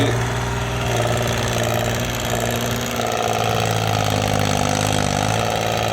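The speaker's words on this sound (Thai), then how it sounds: "นี่รถไถตัวเอครับผม L34" A Kubota L34 tractor engine idles with a steady, throbbing low rumble, loud and close, running continuously without speech.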